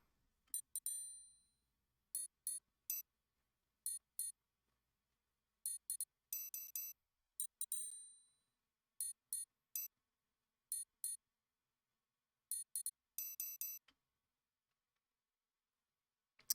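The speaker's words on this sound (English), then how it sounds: "Then we have a triangle sound." Bright, high metallic pings tap out a sparse rhythmic pattern, short clusters of ringing notes separated by silence, clean and alone.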